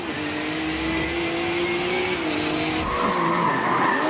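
Race car tires skidding and squealing in Forza Motorsport 7, a sustained loud screech over a steady engine drone that shifts higher near the end, with no voices.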